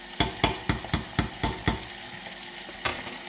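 Lamb crackles and sizzles in hot oil, with a series of sharp splattering bursts in a steady rhythm, close and fairly loud.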